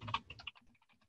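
Quick, faint clicking of keys on a computer keyboard as a search is typed, a short run of light taps alone.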